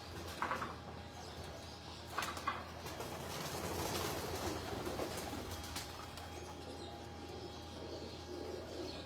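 Pigeons coo softly and steadily at a distance on a rooftop in Lahore, a low murmuring call under a faint outdoor hum.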